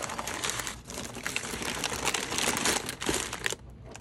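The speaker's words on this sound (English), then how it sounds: "Okay, let's unwrap her." A Volks Dream Choice vinyl doll being unwrapped from its packaging: steady close crinkling and rustling of plastic wrap and paper for several seconds, ending abruptly, with no talking.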